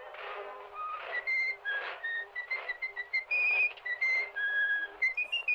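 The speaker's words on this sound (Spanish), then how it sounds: "El clásico silbido del cortometraje es prueba de ello" Whistled melody from the classic Bugs Bunny cartoon short, a bright tune of short, clear notes that rise and fall in quick succession, played alone without speech.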